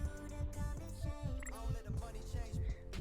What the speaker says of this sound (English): Still hearing the heartbeat opponent in the distance.